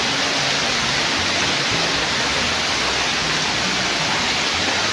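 Dampalit Falls pours in a steady, dense broadband roar that fills the whole stretch at close range, with no voices over the rushing water.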